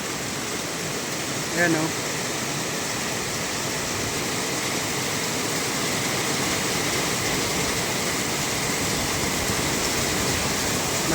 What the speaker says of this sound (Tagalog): Guys, lakas na naman ng ulan, gaya kahapon.